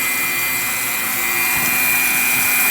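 A rotary tool whines at a steady high pitch as a sanding stone grinds against a surface, loud and unbroken throughout, on an aircraft's flap controls.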